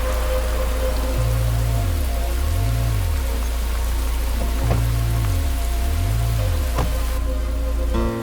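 Steady rain patters continuously across the whole stretch, with a low electronic tone wavering underneath and no voices.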